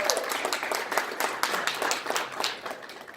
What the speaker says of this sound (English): give Professor Adams a nice round of applause